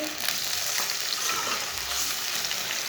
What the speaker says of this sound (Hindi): गोश्त डाल के इसे 1 मिनट तक भून लेंगे।